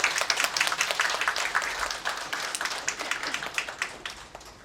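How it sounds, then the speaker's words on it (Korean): An audience at a symposium on the Donghak Peasant Revolution gives a burst of applause, brisk clapping that starts strong and gradually thins and fades out over a few seconds. "큰 박수 부탁드립니다."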